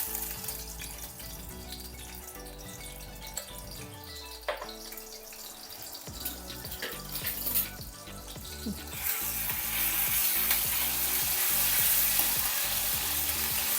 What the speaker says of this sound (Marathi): तेल टाकलं ना की 2 लसूण पाकळी टाकते आणि ही पेस्ट टाकूया, आलं लसूण आणि मिरची